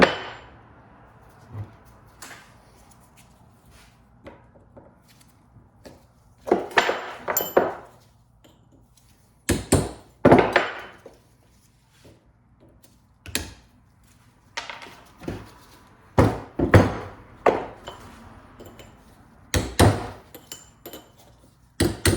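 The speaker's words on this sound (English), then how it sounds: "so let's get the chisel out again." Sharp metallic clangs of a hammer striking a chisel to knock rusted U-joint clips out of a Jeep WJ Grand Cherokee double cardan joint, arriving as irregular clusters of ringing blows close by, separated by quiet pauses, with no talking.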